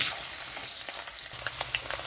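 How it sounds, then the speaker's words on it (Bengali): Potatoes frying in hot mustard oil in a wok: a dense, even hiss of sizzling oil, close and steady throughout, with small crackles and no voices. "কড়াইতে সর্ষে তেল দিয়েছি সর্ষের তেলটা গরম হয়ে গেছে তো এখানে আলুগুলো দিয়ে দিচ্ছি ভাজার জন্য"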